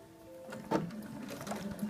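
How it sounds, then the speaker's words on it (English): A domestic sewing machine edge stitching an apron pocket hem, running in short soft bursts with a mechanical whir, fairly quiet and close. "You're just going to do an edge stitch, which is about 1/8 of an inch away from the edge."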